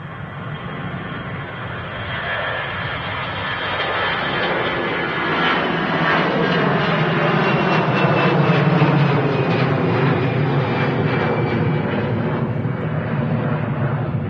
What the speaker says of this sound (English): You've got the Tui 737 MAX 8 taxiing down there